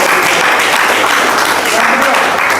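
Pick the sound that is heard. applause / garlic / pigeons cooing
applause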